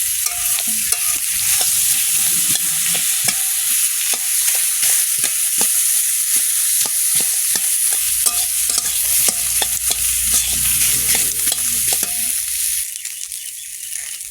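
Prawns fry in leftover egg-frying oil, giving a continuous sizzle broken by a rapid series of sharp scraping and clacking stirs. The sizzle deepens and thickens in the later part, and no one speaks.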